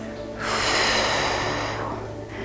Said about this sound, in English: Deep breaths.